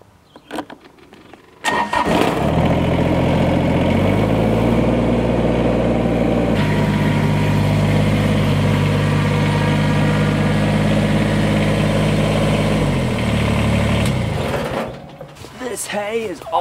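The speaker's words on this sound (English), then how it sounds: "let's get the tractor going" A farm tractor cranks and fires, then idles loudly with a steady low rumble for about twelve seconds before shutting down, used to move hay bales.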